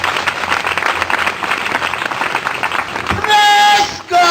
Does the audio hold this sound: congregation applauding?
yes